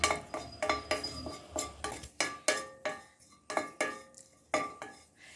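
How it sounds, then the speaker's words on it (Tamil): Tamarind dry-roasted in a pan without oil: a spatula scrapes and clinks against the metal in a steady rhythm of sharp, close strokes, roughly two per second, with no talking. "இந்த புளி ஈரப்பதம் போகிற வரைக்கும் வறுத்து எடுத்து அதனுள் சேர்க்கவும்"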